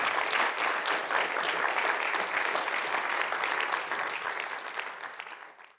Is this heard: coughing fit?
no